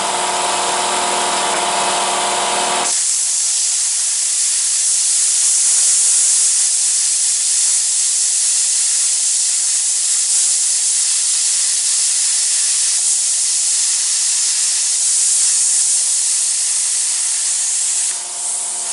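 Handheld plasma cutter slicing through a metal piece with the nozzle held upright, a steady loud hissing roar that starts abruptly after a short quieter lead-in and holds at an even level, with no talking.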